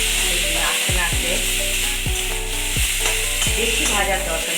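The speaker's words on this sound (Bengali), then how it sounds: "এটাকে একটু নাড়াচাড়া করতে হবে।" Chili powder and turmeric sizzling in hot oil in a pan for rohu fish kalia, stirred with repeated scraping strokes over a steady close frying hiss.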